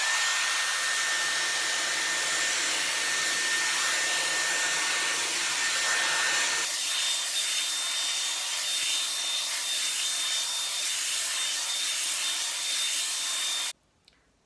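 A Dyson Airwrap with the smoothing brush attachment drying and smoothing hair, giving a loud, steady close-up blower roar that changes pitch partway through as the setting shifts, then cuts off abruptly.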